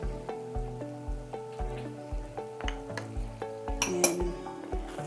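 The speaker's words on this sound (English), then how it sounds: "And stir all of this together." Eggplants in garlic sauce with spring onions, salt and pepper being stirred in a pan, a spoon knocking and scraping the metal in a steady rhythm over a soft sizzle, close and without talk.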